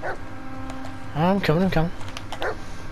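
A dog in the Blair Witch video game gives a few quick close barks midway, brief and sharp over a low ambient hum, with a voice speaking before and after.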